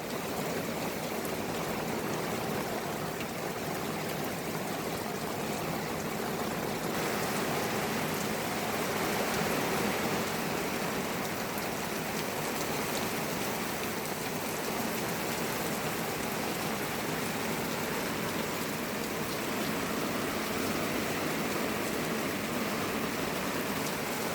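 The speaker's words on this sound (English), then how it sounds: "the wind's kind of blowing the rain, but when she rains, she pours." Heavy wind-blown rain pours down outdoors, a loud, constant hiss of drops on surfaces that stays steady and dense for the whole stretch, with no one talking.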